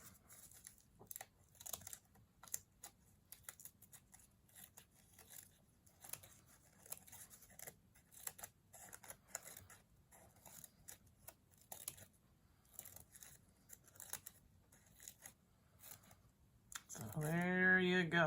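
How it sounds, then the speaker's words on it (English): Scissors snip through crepe paper to fringe it for a rosette, a run of close, light, crisp cuts and faint crinkling, quiet and uneven, ending with a short burst of talk. "So I'm just cutting and making it"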